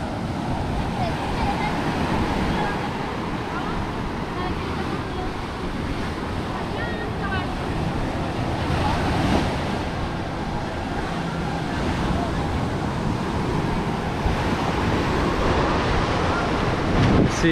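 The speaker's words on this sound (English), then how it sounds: "the ocean is so high that it's actually attacking the buildings" High surf crashes at Palomino Beach, Colombia, where swollen ocean waves reach the buildings; a loud continuous roar of waves mixed with wind buffeting the microphone.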